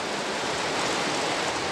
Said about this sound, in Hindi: और बाहर धनाधन बारिश शुरू हो गई है।